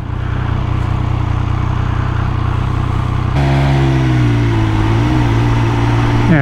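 A Triumph Speed Triple 1200 RS motorcycle pulls hard in second gear through town, its engine note droning loudly and close, then climbing in pitch as it accelerates.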